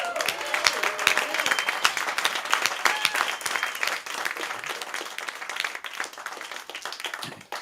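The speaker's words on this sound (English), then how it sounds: "Let's give a big round of applause for Jim Tinney" An audience in a bookshop applauds owner Jim Tinney at a live music evening, with steady, dense clapping running for several seconds at close range and faint voices mixed in.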